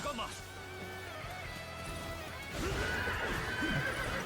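Horses in the battlefield game Dynasty Warriors Origins whinny and neigh amid a busy din of hooves and battle noise, with someone talking over it; the neighing grows louder in the second half.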